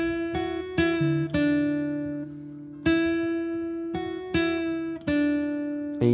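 Fingerstyle guitar picking, with plucked strings ringing out and one note bent and slid back down, heard in a clear, close, unaccompanied phrase.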